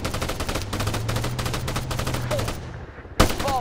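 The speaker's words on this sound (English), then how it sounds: "Taking fire!" Gunfire crackles in Arma 3 as steady rapid bursts of shots rattle on over a low background hum. After a short lull, a single loud, sharp report cracks out, followed by more shots.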